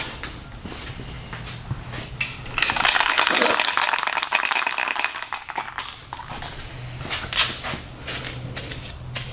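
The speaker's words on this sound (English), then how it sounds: "Now we'll spray a little primer on there so it doesn't rust." Primer hisses steadily from an aerosol spray can onto the metal chassis of a 1986 Chevrolet C10, a continuous spray lasting a few seconds, with handling clatter and rattles before and after.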